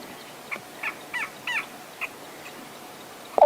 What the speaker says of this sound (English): there's the go-away birds calling at the top there.